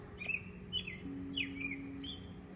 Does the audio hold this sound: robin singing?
yes